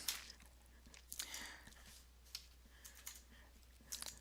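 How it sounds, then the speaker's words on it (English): Typing on a computer keyboard to enter a picture file name into a save or insert dialog, producing irregular light key clicks in short bursts over a low steady hum, close and quiet. "you're going to type in the name of the picture file"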